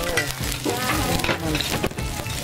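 Loud, steady sizzling and crackling of shellfish frying on a hot pan at a Thai street food stall in Loei, dense and continuous throughout, close up with no talking.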